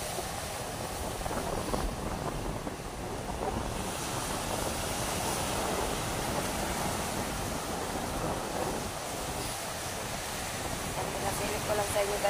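Waves and wind at a crowded seaside, a steady broadband roar of surf mixed with gusty wind buffeting the microphone, loud and continuous throughout.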